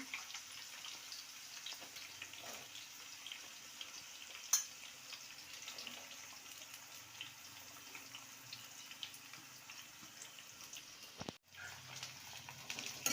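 Onions and curry leaves frying in oil for lemon rice, a steady soft sizzling hiss that runs the whole time, fairly quiet, with a brief clatter and a short dropout near the end.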